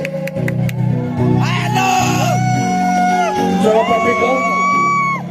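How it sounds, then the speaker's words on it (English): At a youth festival beauty pageant finale, a large crowd cheers, whoops and shouts for the sponsors, loud and sustained, with a voice over a microphone mixed in. "can we have a big round of applause for our sponsors, Sir Atikniso"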